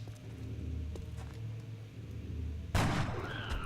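A single sharp sniper rifle shot cracks out in XCOM Enemy Within, loud and sudden after a low ambient hum, followed by a brief ringing tail.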